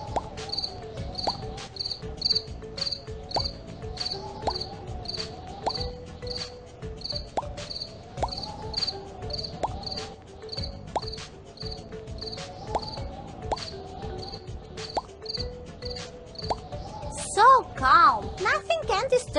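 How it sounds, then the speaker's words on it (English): Steady cricket chirping repeats in a fast, even rhythm in a kids' forest camping video game, with a light musical melody playing underneath and a few brighter game-like tones near the end. "Everybody's sleeping, but crickets disturb them."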